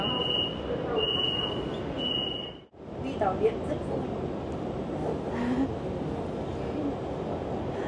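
A light rail metro train in Hanoi runs with a continuous rolling rumble and a thin high wheel squeal early on, while people talk over the noise.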